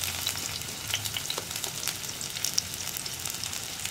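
Crushed ginger and shallots fry in hot coconut oil in a pan for a tomato prawn curry, a steady close crackling sizzle with scattered sharp pops and no voices.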